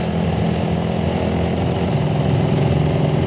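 A Suzuki Raider 150 carbureted motorcycle climbing a steep road: a steady, loud engine drone with a strained, buzzing tone, running continuously at high revs without letup.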